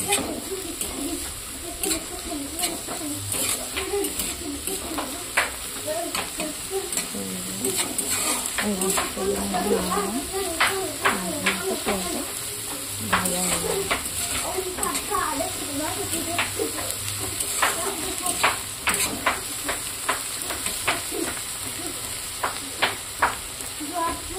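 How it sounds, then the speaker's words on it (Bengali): Salted onions fry with a continuous sizzle while a spatula scrapes and clicks repeatedly against the pan; a voice talks intermittently underneath. "নাড়তে থাকবো"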